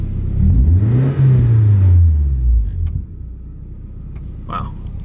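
A car engine revs up loudly, pitch sweeping upward and then falling back over a couple of seconds, a steady idle rumble continuing afterward with faint knocks near the end.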